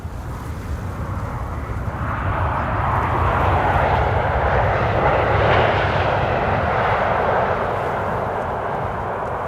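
A passenger jet takes off at Amsterdam Schiphol Airport with a loud, broad engine roar that builds steadily and holds, heard from a spotting position outdoors with no talk over it.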